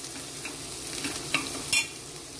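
Mixed vegetables with green peas sizzle softly in a pan while being stirred, a steady low hiss broken by a couple of brief scraping clinks near the end, no voices.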